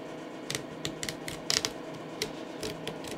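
Small sharp snips and clicks as old worn stitching is cut out of a steering wheel during restoration, irregular close taps and crisp cuts over a quiet background.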